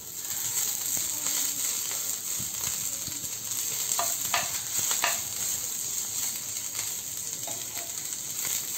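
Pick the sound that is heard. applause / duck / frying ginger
frying ginger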